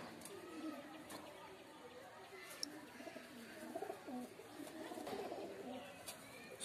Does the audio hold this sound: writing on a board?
no